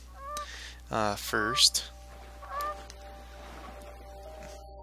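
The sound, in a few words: geese honking and flying off in video game The Forest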